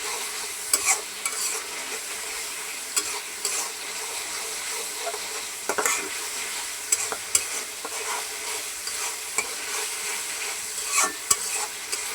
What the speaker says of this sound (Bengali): এই সমস্ত মশলাটা আমি যদি ভালো করে কষায় নিতেছি